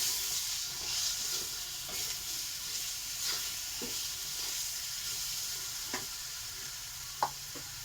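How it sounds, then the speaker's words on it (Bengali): A paste of green chilli, ginger and cumin sautéing in a pan, giving a soft, steady sizzle with faint stirring scrapes and an occasional light tap; quiet and without voices. "পেস্ট করা আছে কাঁচা লঙ্কা, আদা, জিরে। ভালো করে কষাবো।"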